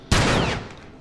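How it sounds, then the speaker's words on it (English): A sharp, loud gunshot blast fires in The Last of Us and decays quickly into a short ringing tail, with no talk over it. "Alright, they're shooting."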